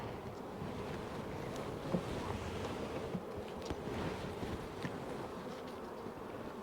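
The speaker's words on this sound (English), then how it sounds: "Lots of happy bees." Bees from a nucleus colony buzzing around hives set beside alfalfa fields, a steady, moderate hum blended with outdoor wind noise, with no talking.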